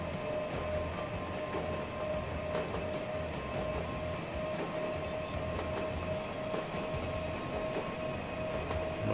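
Train running steadily through the Transport Fever video game, a continuous rumble with a sustained tonal whine and faint periodic clicks, moderately loud and even throughout.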